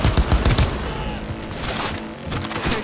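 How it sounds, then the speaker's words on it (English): A rapid burst of gunfire in the Cyberpunk 2077 video game, loud dense automatic shots rattling close by and continuing through the whole moment. "Heard shots."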